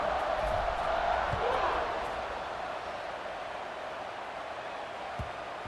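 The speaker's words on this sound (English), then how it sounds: "this crowd now ready to get behind them" Stadium crowd noise at a college football game between Ole Miss and Virginia Tech, fourth quarter and tied, just before a kickoff: a broad sustained roar from the stands that swells for two seconds and then settles into a steady crowd hum.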